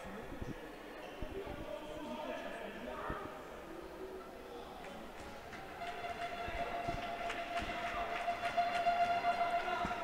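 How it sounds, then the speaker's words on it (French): A foghorn blown by visiting Marseille supporters in a handball arena, a steady sustained tone building over crowd noise and commentary in the second half of the stretch. "La corne de brume qui a été amenée par les supporters visiteurs marseillais."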